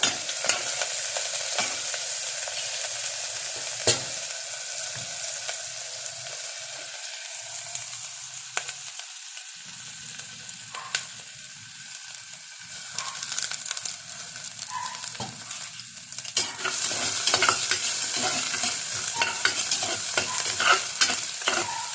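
Ginger pieces sautéing in a pan for chicken tinola sizzle steadily at close range, with a ladle scraping and stirring now and then; the frying grows denser and louder over the second half, and no one speaks.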